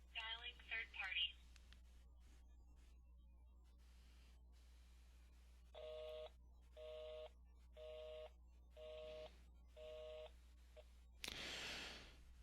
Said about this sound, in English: The busy tone indicates that the destination failed